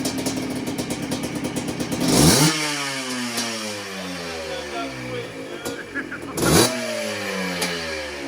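A Yamaha Blaster two-stroke ATV engine, choke off, revs and idles with a rough, crackling exhaust note, rising and falling in two bursts, close up, with voices faintly underneath.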